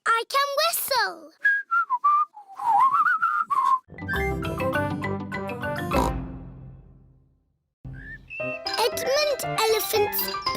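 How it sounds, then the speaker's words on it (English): Peppa Pig, a cartoon piglet, whistles a short, wavering tune between bursts of child speech, followed by a jingly musical flourish and brief pig snorts. "Peppa has learned how to whistle."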